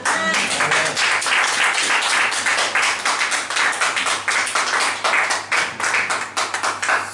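A church congregation at a seminary bursts into sustained, loud applause to acclaim the Lord, dense rapid clapping from many hands that continues steadily throughout with no pause.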